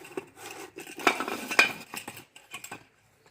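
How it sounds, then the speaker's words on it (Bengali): A metal pressure cooker lid is set on and pressed shut in a kitchen, a short cluster of close clanks and clatters over a few seconds that then falls quiet. "দিয়ে প্রেশার কুকারের ঢাকাটা চাপা দিয়ে বন্ধ করে"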